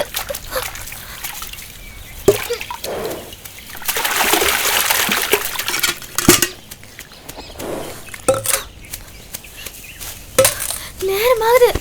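Water splashes and trickles into a bucket in a village. There are uneven sloshing bursts, with a steadier rush of pouring partway through, and voices are heard intermittently around it.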